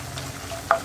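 Coconut pieces fry in a pan for a soya chunk masala dry roast, with a soft, steady sizzle and a brief stirring scrape near the end, quiet and close.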